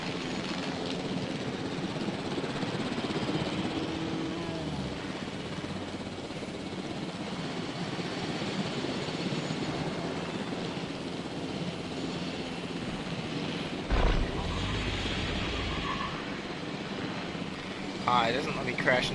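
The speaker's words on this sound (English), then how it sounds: "I just probably would have crashed the helicopter there" The helicopter in the Jurassic World Evolution dinosaur park game gives a steady rotor and engine whir that carries on the whole time, and a player talks over it.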